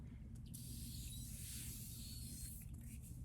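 A single long hiss of a makeup setting spray bottle misting close by, lasting about two seconds over a low background hum.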